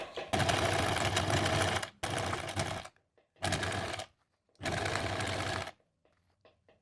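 A sewing machine stitches a blouse sleeve seam in four loud, close bursts of rapid whirring, separated by brief pauses for back-and-forth stitching.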